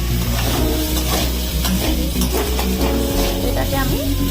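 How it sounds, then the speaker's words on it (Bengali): Eggplant and taro pieces, seasoned with turmeric and salt, fry loudly in a wok with a dense, continuous sizzle. Stirring clatter and faint background sounds sit beneath it. "এটাতে আমি বেগুন আর কচুগুলোকে এই কড়ার মধ্যে ফ্রাই করে নেব"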